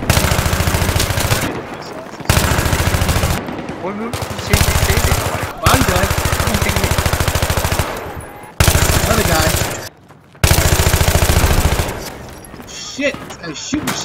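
Automatic gunfire in the video game Battlefield 3: loud, close machine-gun bursts running several seconds each, broken by short pauses, with faint voices talking underneath.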